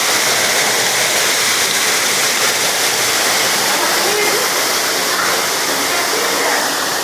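Water from a waterfall in an indoor rainforest exhibit pours as a loud, continuous broadband rush that stays steady throughout, close by and filling the whole clip.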